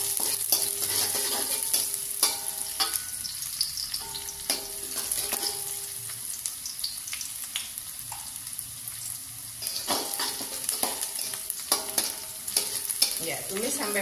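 Shallots and garlic sauté in a hot pan, a continuous sizzle under repeated scraping stirs of a spatula, close and fairly loud throughout.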